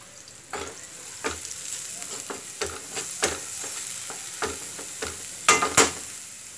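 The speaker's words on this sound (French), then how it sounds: "Je vais laisser un peu mijoter." Pieces of food for rice with meat browning in a pan, a steady low sizzle punctuated by sharp spoon clacks and scrapes against the pan, a couple louder near the end.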